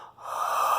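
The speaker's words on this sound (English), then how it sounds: "I hit a dog whistle tone with my breathing out." A faint high whistle-like tone carried on an outward breath, rising after a short pause and sustained as a thin airy note.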